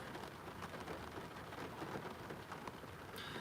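Steady rain falls outside on a gloomy Florida day, a dense, even hiss with a faint patter heard from inside a car.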